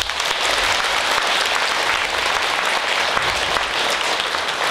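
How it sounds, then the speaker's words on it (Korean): Loud, dense applause from a congregation at a Buddhist bodhisattva precepts ceremony during an anniversary festival at Geumsansa temple, with steady clapping filling the whole stretch and no speech over it. "그러니까 알고 박수 한번 치시오."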